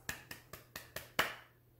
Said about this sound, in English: Can you clap your paws?